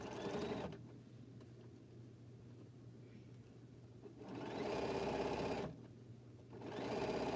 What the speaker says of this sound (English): Reverse stitching.